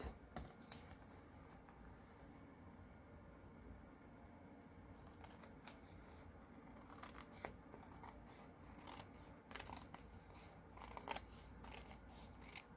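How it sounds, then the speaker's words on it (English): Scissors snip away part of a paper book page, giving a string of close, crisp cutting clicks and rustles over a low room hum. "Trim this part of the book page off"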